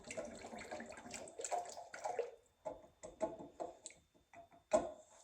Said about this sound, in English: Now let's whisk in. Keep whisking, keep whisking, keep whisking.